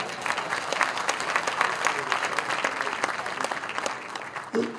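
Crowd at a Côte d'Ivoire brewery event applauding steadily, a dense wash of clapping at moderate distance with voices mixed in underneath throughout.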